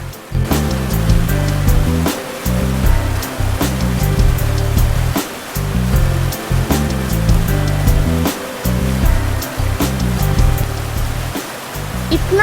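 Banyumala Twin Waterfalls in Bali roars with a loud, steady wash of falling water that fills the whole clip without a break.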